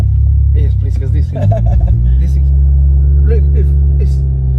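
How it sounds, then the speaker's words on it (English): A 500bhp Golf R rev climbing as it is put in gear, a loud close-up engine rumble with a rising pitch that steadies, while people talk over it. "Why the fuck does it rev when you put it in gear?"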